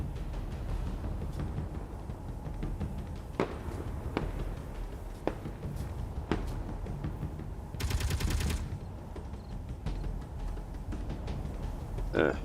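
An autocannon blasts away in the space-building game Space Engineers, with sporadic sharp shots over a steady rumble and a short, harsh burst of rapid fire partway through, all loud and close.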